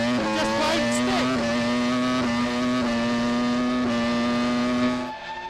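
A Formula 1 car engine during 2006 British Grand Prix qualifying holds a loud, sustained high-pitched whine, with small shifts in pitch as the car is driven through a corner and accelerates, then fades near the end.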